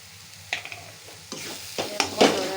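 A spoon stirs browned fried onions in a pan with cumin and coriander powder just added, giving a few distinct scrapes and knocks over a low, quiet sizzle.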